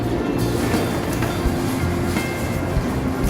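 A Shinkansen Nozomi train rumbles steadily at a station platform in Japan, a continuous low mechanical drone with faint rattling, fairly loud and close, with no voices over it.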